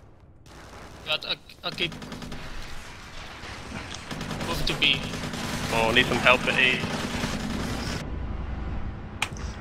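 Video game gunfire in a team first-person shooter match: dense, continuous bursts of rifle and machine-gun fire with sharp individual shots, while a player talks over the battle.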